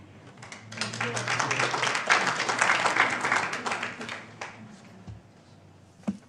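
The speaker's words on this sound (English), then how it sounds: "I'm just asking you not to applaud because that's the rules of how we run a meeting" Applause from an audience at a town council meeting, a few seconds of steady clapping from the room that swells and then tapers off, fairly close and moderately loud.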